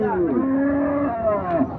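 A large Sahiwal bull lets out a long, deep moo, loud and close, with the pitch sliding down then rising, against faint background noise at a cattle market.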